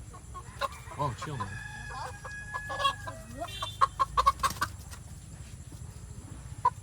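Chickens in a Philippine chicken house cluck in short bursts with a rooster crowing, close and fairly loud, while someone speaks over them.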